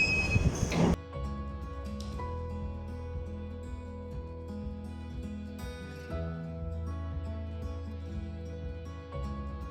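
A London Underground tube train runs along the track with a steady rumbling drone, tonal wheel and motor whine and occasional rattles, heard from inside over a sustained stretch, with no talk.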